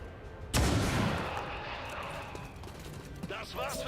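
In the XCOM 2 video game, a single loud pistol shot cracks near the start and leaves a long booming decay, followed by softer game effects and a faint voice.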